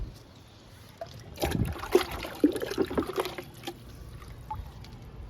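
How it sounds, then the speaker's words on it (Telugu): Water trickles and splashes briefly onto soil around a mulberry plant, a short pour that swells and fades, with quiet surroundings before and after. "ఇంకా వాటర్ ఇస్తున్నానండి మల్బరీ మొక్కకి"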